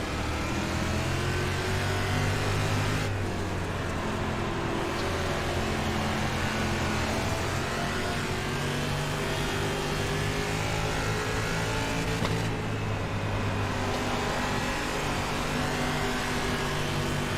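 Limited dirt late model race cars at Volusia in the iRacing sim roar at the green flag, a loud, sustained multi-engine drone that rises in pitch as they accelerate together, with brief dips and swells as the engines are worked.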